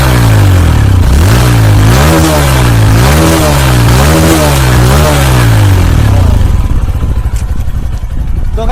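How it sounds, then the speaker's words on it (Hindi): Motorcycle engine with 80+ mileage revved up close with the throttle, loud rising and falling revs in several repeated surges before settling to a rough, clattering idle; no voices. "अब इसका मैं एक्सीलेटर देके दिखाता हूँ। साउंड अभी इसकी साउंड हम लोग सुनाते हैं आपको"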